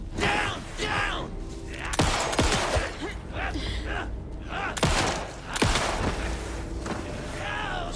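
Gunfire in Alan Wake II: a few sharp, loud shots spaced a second or two apart, with a player talking in between and over them.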